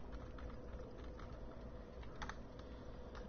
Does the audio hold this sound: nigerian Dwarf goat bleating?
no